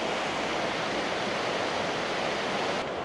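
A creek beside a hiking trail flows with a steady, even rush of water, constant and moderately close with no other sounds.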